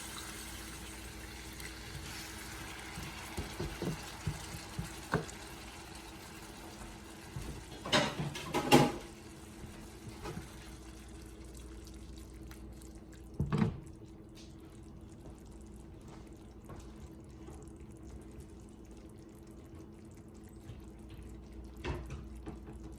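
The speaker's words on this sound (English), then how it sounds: "Alright, so I've added a little bit of water to it." Tap water runs into a pot of curry fish in a home kitchen, the faint background hum broken by a few short pouring and splashing bursts and scattered drips, with no talking.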